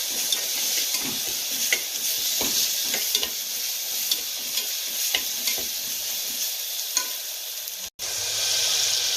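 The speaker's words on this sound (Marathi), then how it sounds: "आपला मसाला जो आहे तेलामध्ये चांगला परतून झालेला आहे." Masala with ginger, garlic and coriander paste fries in oil while a spoon stirs it, making a steady close sizzle broken by repeated scraping strokes against the pan. The sizzle cuts off for a moment near the end, then resumes.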